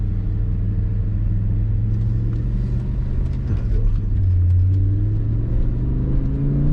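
A BMW E60 M5 engine holds a steady low rumble that swells as it revs and accelerates, heard from inside the car with no talking.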